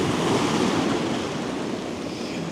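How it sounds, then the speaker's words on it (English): Ocean waves and an incoming tide roll onto the Oregon coast at Cannon Beach, a steady, loud broadband wash of surf with continuous rumble and hiss and no voices. "And the tide, as you can see, is coming in higher and higher"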